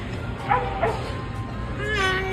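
A little dog at daycare lets out a few high, excited yips and whimpers, faint and somewhat distant over a low background hum, rising into a longer whine at the end.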